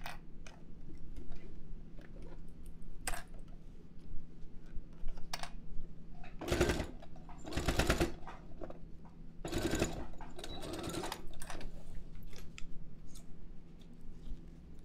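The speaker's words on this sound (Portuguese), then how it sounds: "Vamos para a máquina. E vamos rebater essa costura." A sewing machine topstitching a seam on a small fabric cosmetic bag, running in several short bursts of fast, even stitching between quieter pauses with light handling clicks.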